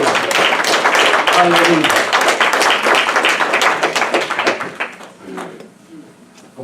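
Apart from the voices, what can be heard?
audience applause in church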